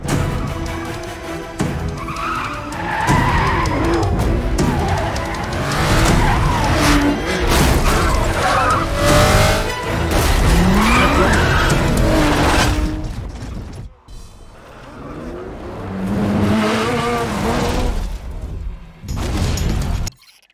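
A racing video game car skids and crashes, with loud tire screeches, engine roar and impact booms running almost continuously before a brief drop and another burst of skidding near the end.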